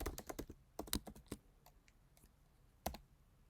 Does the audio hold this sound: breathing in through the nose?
no